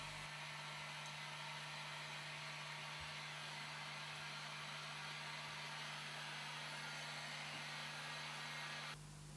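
Heat gun blowing steadily while drying fixer on car leather during automotive leather renovation, a constant loud airy roar with a low hum underneath that holds unchanged for nearly the whole stretch before stopping at the end.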